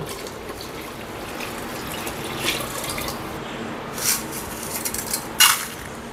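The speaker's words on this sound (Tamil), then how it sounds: "இப்போ நம்ம குழம்புக்கு வேணுங்கிற தண்ணி ஊற்றிக்கலாம்." Water pours and splashes into a pot of mutton curry in a few uneven gushes, with a light metallic clink near the end.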